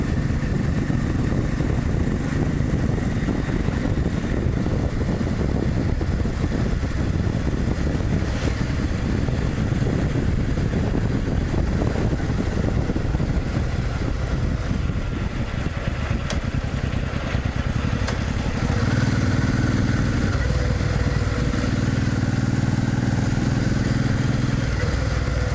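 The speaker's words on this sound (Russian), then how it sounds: "Француженки на скутерах." Scooters ride along a winding street through a small French town, with a steady engine drone that stays loud and unbroken throughout and no talking.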